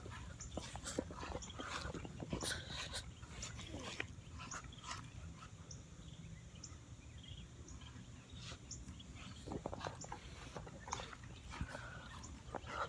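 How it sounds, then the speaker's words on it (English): Three dogs move around nearby outdoors by a lake dock, with soft whimpers, snuffles, and rustling footsteps in scattered bursts at low volume. "I got 3 dogs chasing me right now."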